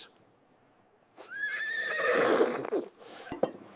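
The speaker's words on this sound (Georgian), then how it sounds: "ქართული ძეხვი, მაგრამ რატომ ჭიხვინებს?" A horse sound effect: a single rising and falling whinny, fairly faint, with a couple of short knocks after it and no talk.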